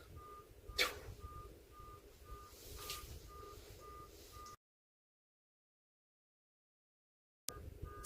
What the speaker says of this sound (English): there's a car alarm right behind me.